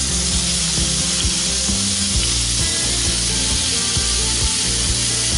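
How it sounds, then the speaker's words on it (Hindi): Green tikka pieces fry in a little oil in a hot pan over a medium flame, giving off a constant, close, crackling sizzle. A steady hiss runs from start to finish. "मैंने पैन में बस बहुत थोड़ा सा ऑयल डाला है और पैन को गर्म किया है और मीडियम फ्लेम पर मैं अब ये टिक्के तैयार कर लूँगी"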